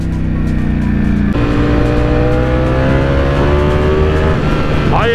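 A Ducati V4S motorcycle engine accelerates hard, revving loud and close with a rising whine that steps up through gears, continuous and aggressive with no voices.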